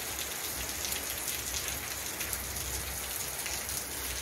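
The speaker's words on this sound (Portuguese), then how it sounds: "Muita, muita chuva, gente." Heavy rain pours down in a steady, dense hiss of countless drops striking surfaces, unbroken and close, with no voices.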